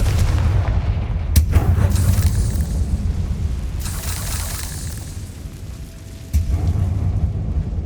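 Confringo spell blasts in the video game Hogwarts Legacy: heavy, rumbling booms roll through a continuous low roar, with sharp bursts near the start, in the middle and again toward the end.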